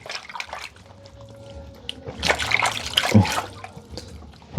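Water trickles and splashes as food is washed by hand. Soft dribbling at first, then louder sloshing and splattering toward the end.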